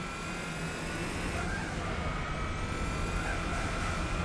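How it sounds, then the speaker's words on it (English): A race car engine in the video game Gran Turismo 4 drones at a steady, loud pitch throughout, a continuous engine roar without breaks. "I'm not here to listen to your car"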